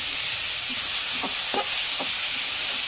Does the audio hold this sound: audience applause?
no